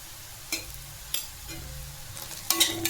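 Taro leaf stalks frying in a pan with salt added, a steady low sizzle broken by a few sharp scrapes and clinks of stirring, louder and busier near the end.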